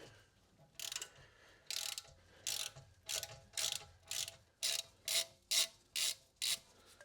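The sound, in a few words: ratchet unscrewing Volvo XC60 rear brake caliper pins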